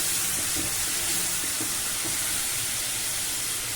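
Okra and tomato curry sizzles steadily in a pan over a medium flame, a dense continuous hiss and crackle with no talking.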